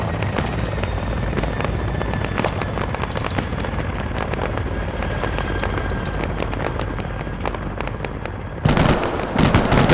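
A gunship helicopter arrives over a video game battlefield, its rotor roar steady and loud beneath a dense barrage of gunfire and explosions, with a heavy burst of blasts near the end.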